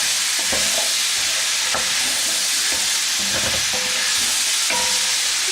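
Beef and onions frying in a pan for beef in Guinness, a steady close sizzle broken by a few scraping strokes of the spoon as the mixture is stirred.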